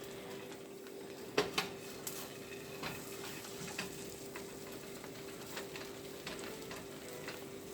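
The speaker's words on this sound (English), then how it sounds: "Just making sure you guys can see how I'm frying my egg also." Quiet, steady sizzle of an egg frying in a pan, with a few soft clinks of a utensil against the pan.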